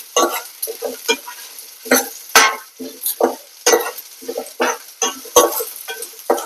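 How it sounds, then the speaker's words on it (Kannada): Urad dal roasting in a pan for chutney, stirred in a regular rhythm of scraping, rattling strokes with a light sizzle between them, close and clear with no voices. "ಬೇಳೆ ಹಸಿ ವಾಸನೆ ಹೋಗುವವರೆಗೆ ಉದ್ದಿನ ಬೇಳೆದು ಹುರಿಬೇಕು."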